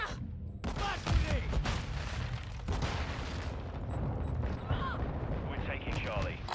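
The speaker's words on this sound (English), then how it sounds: "Flash grenade." A flash grenade goes off in Call of Duty: Modern Warfare II: sharp broadband blasts burst out amid game effects and radio-style voice callouts, with loud rumbling chaos throughout.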